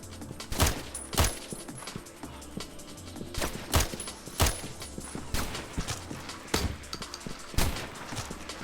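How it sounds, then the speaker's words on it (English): Shotgun gunfire in a competitive online shooter game: a string of sharp, loud blasts repeats at irregular intervals over a steady background of in-game clatter and footstep-like thumps, with no talk. "Bro pulled out the shotgun"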